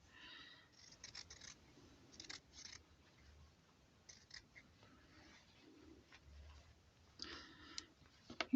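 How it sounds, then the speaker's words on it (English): Sharp metal scissors trim excess cotton fabric around a pieced quilt block, leaving a quarter-inch seam allowance: quiet, close snips come in small clusters over a faint room hush. "you just cut away, leaving about 1/4 of an inch seam allowance all the way around"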